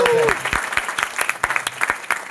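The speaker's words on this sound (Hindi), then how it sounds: "तो एक बार जोरदार ताली हो जाए आप सबके लिए" A workshop audience on start-up sales and marketing claps, with sharp separate hand claps that come in uneven bursts, loud and close, while a voice speaks over the start.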